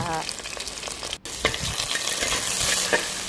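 Sliced onion, chilli and curry leaves crackle and sizzle steadily in hot oil for an ash gourd curry, with a few spoon stirs and clinks close by and no talking.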